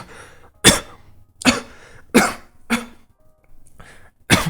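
Five or six sharp coughs spaced about half a second to a second apart, close and fairly loud, with quiet gaps between them.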